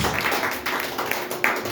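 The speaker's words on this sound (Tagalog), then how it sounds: "Pinakamalakas na palakpak sa Diyos." A church congregation claps loudly in praise of God. The clapping is dense and sustained, with a few sharper bursts standing out, and there is little speech over it.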